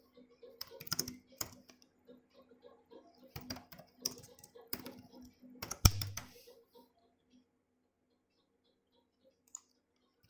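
Quick bursts of typing on a computer keyboard, clustered in the first six seconds, then a lone click near the end; close and moderately loud over a quiet room.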